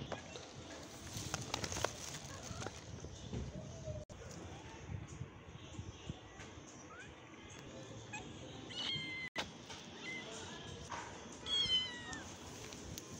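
A mother cat meows repeatedly, moderately close, in bursts spread through the scene, while a person talks softly over and between the calls.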